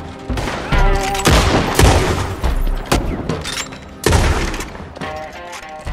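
Shotgun blasts and shattering windows during a Red Dead Redemption 2 shootout: repeated loud booming gunshots with crashing, breaking glass in dense, chaotic bursts, no voices.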